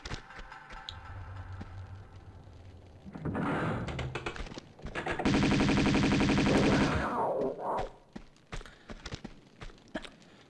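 Uzi gunfire in Tomb Raider 2 Remastered, Catacombs of the Talion level: a rapid, steady burst of automatic shots lasting about two seconds mid-clip, set among footsteps and other thuds from the game.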